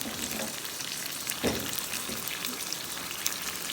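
Potatoes and peas, added with cauliflower to a pan of beef, fry with a steady close crackling sizzle, broken by one brief stirring scrape and scattered small pops.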